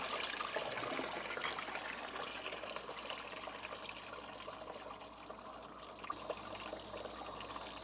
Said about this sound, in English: all the water in the block's gonna come pouring out